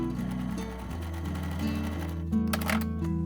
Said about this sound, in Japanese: こんな感じで、ここ仮留めミシンで押さえます。